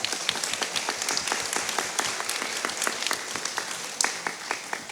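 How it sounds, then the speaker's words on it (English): Crowd at an arts and culture event in Palazzo Diedo claps steadily, many hands close and distinct, keeping an even, lively pace for several seconds with a brief surge near the end. "Big round of applause for Sougwen."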